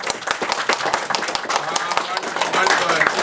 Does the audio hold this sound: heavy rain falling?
no